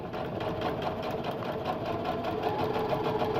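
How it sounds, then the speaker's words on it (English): A sewing machine stitches a paper-pieced quilt block, its steady mechanical whir running close and continuous without a break. "put it in the machine, drop the needle into that corner, stitch back a couple"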